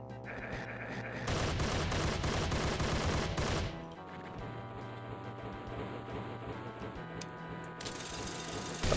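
A minigun in Doom (GZDoom with the Hellbound map) fires in fast rattling bursts, loud and close, broken by brief pauses and mechanical whirring.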